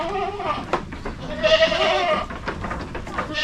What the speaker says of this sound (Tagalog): Gutom na yung mga alaga natin kambing.